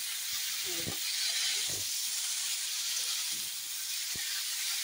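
Lentils with bottle gourd stems sauté in a covered pan, giving a soft, steady background sizzle and hiss under a few brief low knocks and bumps.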